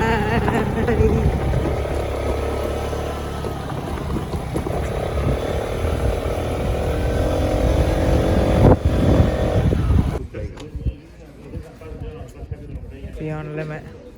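Motorbike ride in Corfu, Greece, with a steady engine drone and rushing wind running loud and close for about ten seconds, then cutting to quieter scattered sounds; voices talk over the ride.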